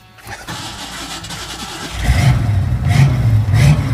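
A Ford Mustang Mach 1's starter, wired directly, cranks and the engine catches, settling into a rough, low idle with a couple of revs, heard up close.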